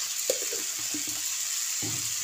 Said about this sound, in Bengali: 5 মিনিট আমি এভাবে নাড়াচাড়া দিয়ে কষিয়ে নেব।